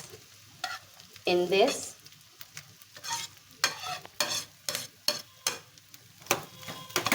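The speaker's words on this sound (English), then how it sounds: "Now I will add boiled and mashed potatoes" Boiled, mashed potatoes are stirred into vegetables frying in a pan, giving a scraping, sizzling burst followed by repeated, fairly close stirring strokes in an uneven rhythm.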